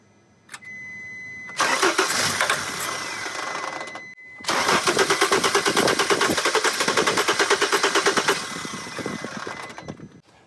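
A Mercedes T1N Sprinter van with corrosion and water damage cranks on its starter, a steady whirring grind broken by a brief pause, then long rhythmic cranking as the engine tries to fire but does not catch.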